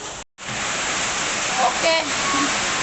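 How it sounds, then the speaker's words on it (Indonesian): Heavy rain with strong wind at Marina, a dense, steady wash of noise that cuts out briefly near the start and then continues loud, with faint voices mixed in. "Ini ya, hujan deras dan angin kencang."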